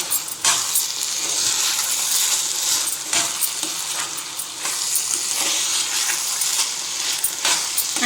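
Ghee-fried dry fruits tumble into a pot of sweet pongal with a steady frying sizzle and scraping stirs, punctuated by several sharp clinks and scoops at close range, with no voices.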